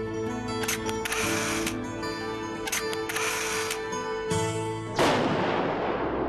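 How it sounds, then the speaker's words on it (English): Ceremonial guns fire a salute, heavy booms mixed with rapid bursts of camera shutters clicking, ending in a loud, sharp blast that rings out near and alone. "ceremonial guns boomed in salute as the cameras froze this moment for eternity"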